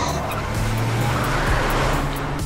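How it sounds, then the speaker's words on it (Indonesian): Car engine revving hard as the vehicle races toward a pier, a loud rising motor roar with tyre noise building to a peak near the end, with no talking. "Emily semakin memacu kencang mobilnya dan mengarahkannya pada sebuah dermaga"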